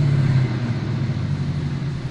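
A Mustang GT V8 engine settles at a steady idle after its revs fall, a continuous low, even rumble with harmonic drone, close and fairly loud, no voices.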